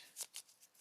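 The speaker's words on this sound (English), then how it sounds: "Little shuffle action." A deck of cards for the board game Genotype is shuffled up close in a few quick, crisp riffling bursts, quiet and without talk.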